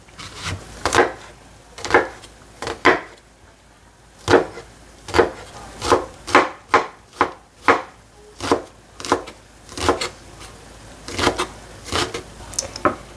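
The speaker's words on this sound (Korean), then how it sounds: "그리고 이제 양파를 썰어 주겠습니다." Knife chopping an onion on a cutting board, a steady series of sharp knocks in irregular clusters, close and clear with no talking.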